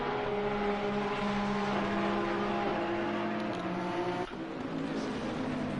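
Several Porsche race car engines in a racing video game drone steadily at high revs, a layered, sustained whine with shifting pitch as cars run close together, with no talk.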